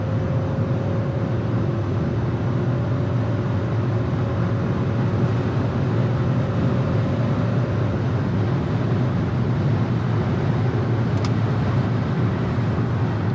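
A BMW M5 at high speed, heard from inside the cabin as a steady, loud low engine and road drone with no talk.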